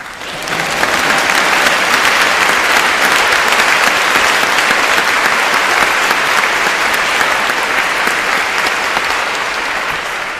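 Loud, dense crowd applause at an outdoor Black Lives Matter solidarity rally, sustained and even for about ten seconds with no voices over it.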